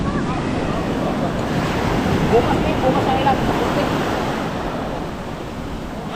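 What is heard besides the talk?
sea waves crashing along the shore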